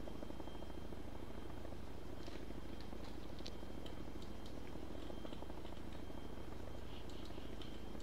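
Chinook helicopter approaching in a military video game, a steady low rotor thrum and rumble filling the background throughout, fairly quiet and continuous with faint higher whines.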